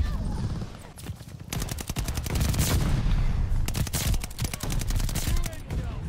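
Light machine gun fire in Call of Duty Vanguard/Warzone: loud, sustained automatic bursts with a rapid, steady rhythm, broken by short pauses, close and dominant throughout.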